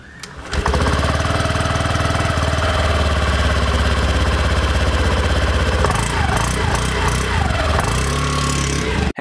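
A Honda Activa 6G BS-6 scooter fires up after a short quiet moment, then settles into a steady, refined idle that runs close and loud to the end, with a slight shift in tone partway through.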